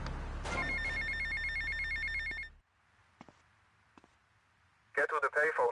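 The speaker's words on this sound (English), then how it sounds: "Get to the payphone in Little Havana." Payphone ringing in the video game GTA Vice City, a loud electronic trilling ring held for a couple of seconds, then faint clicks and a burst of radio chatter.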